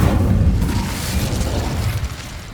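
The Incendio fire spell cast in Hogwarts Legacy, a loud close whooshing burst of flame with a deep boom that fades out over about two seconds.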